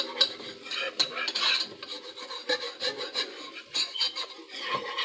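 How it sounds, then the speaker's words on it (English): Flour being stirred into a pot for a roux over medium-high heat, a repeated rasping scrape of a utensil against the pot, close and rhythmic with short strokes and pauses. "I'm going to stir this up really, really good."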